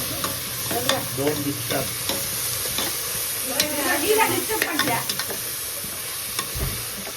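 Chicken biryani masala sautéed and stirred in a pan, with a close, steady sizzle and the spatula scraping and clinking in uneven strokes, while a voice speaks briefly.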